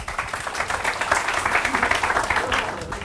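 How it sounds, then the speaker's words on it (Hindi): Hearty applause from a training-seminar audience in Mumbai, many hands clapping with a choppy, pulsing rhythm that swells and stays strong throughout. "जोरदार तालियां खुद के लिए"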